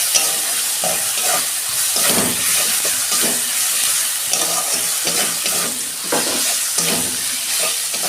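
Ginger garlic paste, chillies and coriander-cumin spices frying with onion in a pan, a loud continuous sizzle and hiss with rhythmic stirring scrapes throughout, close and without talking.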